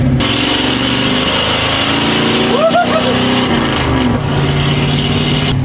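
A car being fired up and revved, a slow but fun cheap used car: a loud, steady engine drone close by throughout, with a rising and falling rev in the middle before it settles back to idle.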